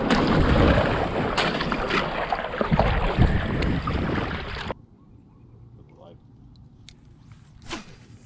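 Boat being paddled through a creek at a trout fishing spot, loud close rustling and splashing with wind buffeting for several seconds, then a sudden drop to quiet water ambience with a faint knock near the end.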